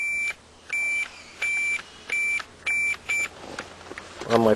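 A Fluke multimeter's continuity tester sounds six short electronic beeps in a steady on-off rhythm, fairly close, followed by a brief rustle or handling noise at the end.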